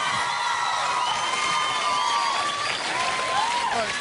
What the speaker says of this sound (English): Give it up, everybody.